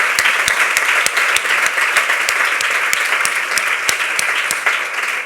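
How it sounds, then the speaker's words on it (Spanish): Steady audience applause fills a hall during a presentation, with dense clapping and a few sharper, nearer claps standing out. It holds at a fairly even loudness throughout without cheering. "Un aplauso para Carmen Gallardo,"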